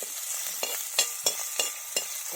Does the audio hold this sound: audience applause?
no